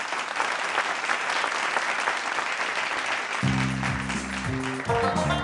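Audience applause at a comedy show, dense sustained clapping that continues as music begins in the second half.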